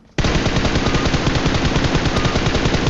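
Loud, rapid automatic gunfire from a fight in the PUBG Mobile video game bursts in abruptly and keeps going as an unbroken, dense stream of shots, alone, with no voices.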